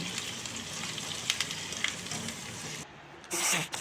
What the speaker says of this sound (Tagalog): For the sauce, nag-fry lang ako ng onions